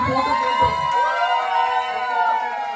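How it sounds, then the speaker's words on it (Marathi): A family gathering crowd cheers and shouts for a first-prize winner, voices and whoops overlapping loudly and steadily with children's shouts mixed in. "टाळ्या"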